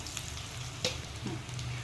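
Quiet, steady sizzle of mustard seeds and cumin frying in hot oil for tempering, with one sharp pop partway through.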